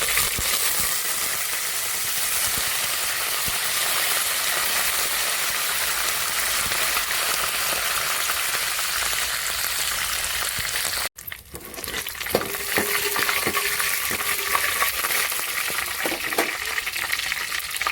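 Curry leaves and cumin seeds crackle and sizzle loudly in hot oil for a tempering, a steady dense hiss that breaks off briefly, then resumes with sharper spits and pops.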